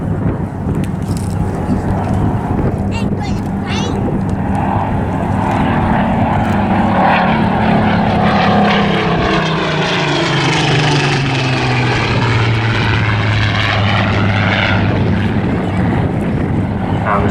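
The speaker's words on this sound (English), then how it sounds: "Spitfire you see in front of yourself today, ladies and gentlemen, is PM631. She's a Mark 19 Spitfire" A Supermarine Spitfire Mark 19, PM631, flies past at an airshow, its piston engine droning loud and steady, rising then sweeping down in pitch as it passes, with wind buffeting and faint voices underneath.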